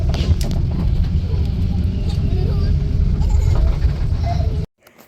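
On a bus heading along the road to Mindo, Ecuador, a loud, continuous engine and road rumble fills the interior with faint murmuring voices, then cuts off abruptly near the end.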